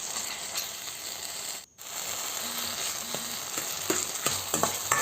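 Chopped tomatoes frying in a pan with salt and turmeric for a drumstick and tomato curry, a steady close sizzle with occasional stirring clinks and a brief dropout partway through.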